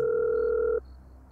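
Electronic telephone call tone from the Wario's Return to the Factory 2 video game: a loud, steady synthetic tone holds for under a second, then cuts off abruptly, leaving faint background hum.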